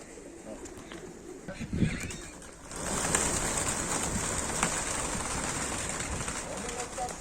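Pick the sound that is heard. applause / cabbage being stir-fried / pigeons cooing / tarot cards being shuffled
pigeons cooing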